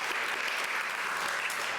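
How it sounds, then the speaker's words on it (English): A brief burst of dense, even applause from a crowd at a horse show gathering, moderately loud and with no talk over it. "that deserves a round of applause."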